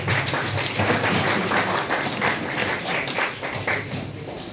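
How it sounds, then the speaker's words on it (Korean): Applause at a church welcome reception for newly appointed elders in Incheon, a short burst of crowd clapping filling the room, dense and steady before gradually thinning out. "우리 모두를 위해서 박수 한번 해주시고요."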